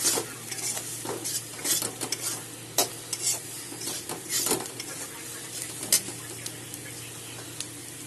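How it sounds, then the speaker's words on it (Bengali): Boiled, ground soybean paste frying with spices in a pan for Bengali soybean bharta, a low sizzle broken by repeated scraping strokes and clinks of a spatula against the metal. "সিদ্ধ করে দিয়ে পেস্ট করা সয়াবিনগুলো এখন আমি দিয়ে দেবো।"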